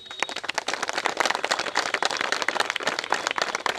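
A crowd at a panchayat election gathering in Solhanda applauds steadily, dense overlapping hand claps that stay loud and continuous throughout, with no voices over them.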